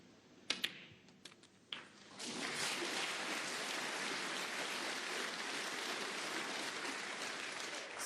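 Audience applause breaks out in the arena during a snooker final between Zhao Xintong and John Higgins as a player reaches frame ball, following a few sharp ball clicks and building into steady, sustained clapping.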